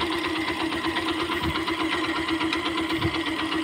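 A Yamaha YTX 125 motorcycle fitted with an oil cooler runs at idle, giving a steady, close, mid-pitched thrum with a light knocking pulse and no voices.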